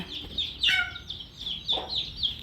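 Chickens cluck repeatedly up close, with a few louder squawks breaking through the steady chatter of birds.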